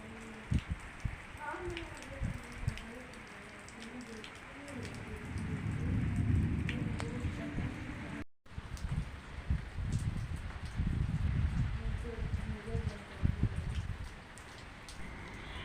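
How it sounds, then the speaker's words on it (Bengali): Steady patter of light rain falling, continuous and soft, with a few faint bird calls in the background. "টিপ টিপ করে বৃষ্টি পড়ছে"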